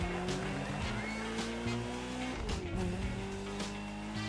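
A classic Ferrari driving in The Crew Motorfest video game, its engine droning steadily and close with shifting pitch and faint tire noise throughout.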